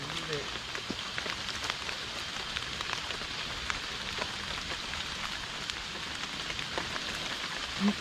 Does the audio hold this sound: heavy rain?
yes